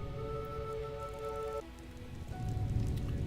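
Rain falls in the video game Enderal, a Skyrim mod, a soft continuous patter under ambient game music whose held tones change partway through.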